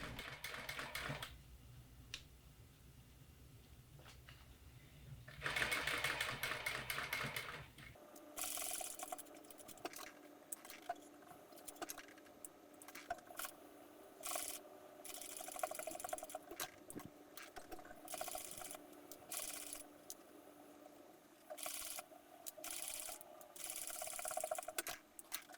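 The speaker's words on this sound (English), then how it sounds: "Using your zipper/piping foot, stitch the fabric layers together along the edges of the cord." A sewing machine with a zipper/piping foot stitches fabric layers along a cord for a costume, running in bursts of rapid rattling stitches separated by short pauses, close and clear.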